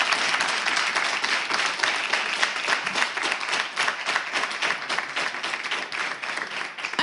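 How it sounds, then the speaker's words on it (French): Sustained applause from an audience at a cultural reading event, steady dense clapping filling the whole stretch at an even level with no speech over it. "Je vais dire merci à M. Elias Ataï, que nous allons beaucoup applaudir."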